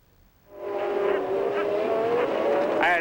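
A Formula One race car, Lauda's number 8 McLaren, roars in loud and close as it overtakes a Williams, its engine note holding steady and then climbing near the end, and a commentator's voice sits under the engine.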